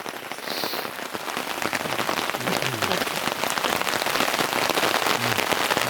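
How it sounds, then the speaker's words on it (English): Heavy rain pours down on a campsite, a dense, loud and continuous patter of drops striking a nearby shelter or tarp, steady throughout with no voices. "This is camping in the rain. We have a nice bed of coals going out there, but it's pouring rain."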